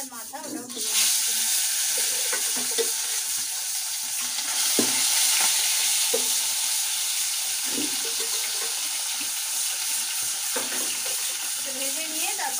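The head and remaining pieces of a snakehead fish fry in a pan of hot oil, a loud steady sizzle that starts abruptly and holds throughout, with occasional utensil taps and a brief murmur of speech.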